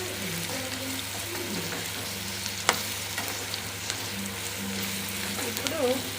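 Turmeric and spices fry in a pan for mango rice, giving a constant close sizzle with scraping stir strokes, one sharp clack, and faint background voices drifting in and out.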